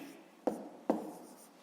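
Pen strokes of a maths solution being handwritten on paper, two short distinct scratches about half a second apart over a quiet room background.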